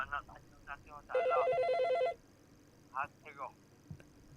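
A telephone rings once in a steady electronic burst, fairly close and loud, between stretches of a voice speaking Malay on a call.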